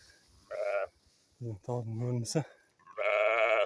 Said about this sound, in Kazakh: Астында тағы қойлар бар екен.